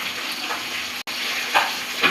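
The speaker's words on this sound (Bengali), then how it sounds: "তেল গরম হয়ে গেছে, তারপর একে একে মাছগুলো দিয়ে দেবো। মাছটা ভাজতে ভাজতে মশলাটা রেডি করে নেবো" Koi fish frying in hot oil for a fish and mango curry, a steady close sizzle with a few louder crackles and bursts near the end.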